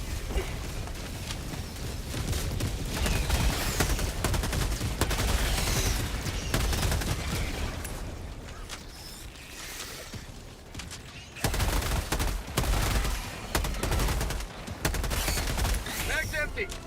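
Rapid, dense gunfire fills a Helldivers 2 mission on the top Helldive difficulty, with automatic bursts and explosions hammering almost without pause, loud and close, while players talk over the action.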